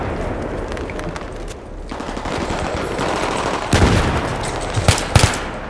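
Rapid automatic gunfire and bursts of shots in the Battlefield 3 video game, a steady rattle building to louder, closer blasts near the end.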